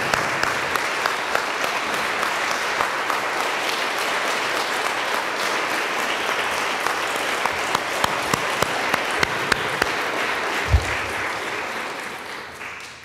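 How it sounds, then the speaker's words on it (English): Audience applauds the candidates at a district election forum, sustained even clapping from a crowd heard from a slight distance, fading out at the close. "I believe our candidates deserve a round of applause."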